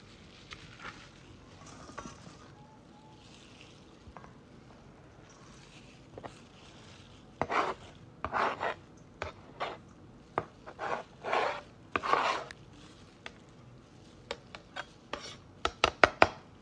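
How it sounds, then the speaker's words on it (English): Vermicelli being cut into small pieces while preparing filling for crispy egg rolls, heard as quiet scattered snips and crunchy taps that grow into denser bursts of cutting toward the end, with no talk. "cut the vermicelli into small pieces."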